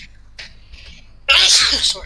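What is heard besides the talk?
sneeze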